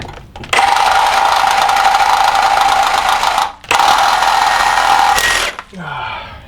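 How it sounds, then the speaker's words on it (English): A Sawzall reciprocating saw cutting through metal on the rear axle of a Lexus LX470: a loud, close, steady buzzing whine that stops briefly partway, restarts, then cuts off and winds down. "I'm going to try using the Sawzall"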